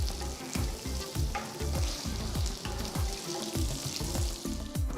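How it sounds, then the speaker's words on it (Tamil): Cumin seeds crackle and sizzle in hot oil, a busy run of sharp pops and spatters with stirring strokes in between, close and steady throughout with no talking. "அடுத்து 2 டேபிள் ஸ்பூன் எண்ணெயை ஊற்றி 1 டீஸ்பூன் சீரகம் போடுங்க."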